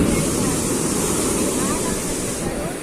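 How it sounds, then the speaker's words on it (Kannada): Sea waves surge onto the shore at Uchila beach in a steady, loud, close wash of surf that continues without a break. "ನೋಡ್ತಿದ್ದಾಗೆ ನೀರು ಬಂತು."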